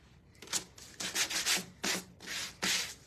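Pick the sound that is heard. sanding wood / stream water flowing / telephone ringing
sanding wood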